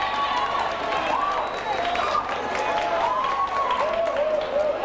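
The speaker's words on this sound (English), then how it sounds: "Give her a big round of applause." Audience applause greets a contestant at a 1995 festival in Cork, steady mid-level clapping filling the clip while a melodic tone or voice rises and falls over it.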